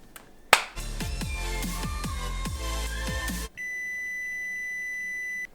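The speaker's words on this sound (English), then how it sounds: "Set the timer again." Kitchen taps and clatter give way to a steady, sustained electronic beep from an oven timer while homemade pizza bakes.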